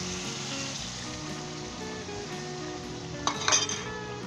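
Yogurt being stirred into chicken korma in a pot, a quiet, continuous soft sizzle with faint spoon movement, then a brief clatter of a utensil against the pot near the end, with no talking.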